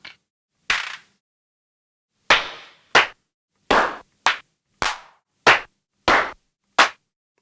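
Individual hand clap samples played on an Akai MPC sound one at a time after brief gaps, crisp and close, each with its own short decay and tone.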